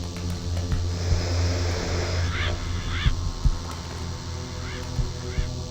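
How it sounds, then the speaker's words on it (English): In the game The Lost Crown, crows caw in a played-back recording: several short, harsh calls sound in scattered bursts over a low, steady ambient hum, moderately close and with no talking. "Sounds like crows."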